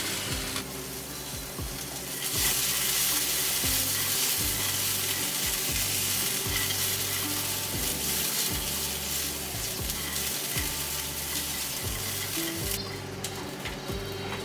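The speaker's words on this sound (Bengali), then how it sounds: "মটরশুঁটি একটু ভেজে নেওয়ার পর 2টা মিডিয়াম সাইজের গ্রেট করা সিদ্ধ আলু আমি এখানে দিয়ে দিচ্ছি। সবকিছুর সাথে আলুটা ভালো করে মিশিয়ে নেব।" Peas and grated boiled potato fry in a pan with a continuous crackling sizzle, while a spoon scrapes and stirs in a regular rhythm throughout, close and fairly loud.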